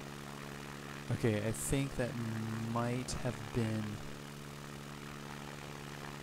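A light aircraft engine running at full power during a tail-up short takeoff in X-Plane 11 at Valdez, a steady droning hum under a voice.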